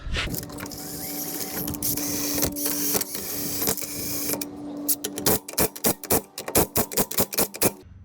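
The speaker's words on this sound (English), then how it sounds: "Tightening up the nuts." Wheel nuts are tightened on a 2007 Scion tC rear wheel after a brake job. A steady mechanical whir gives way to a quick run of sharp, clicking bursts, close and fairly loud. No one talks.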